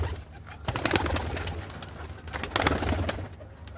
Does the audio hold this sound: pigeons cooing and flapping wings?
yes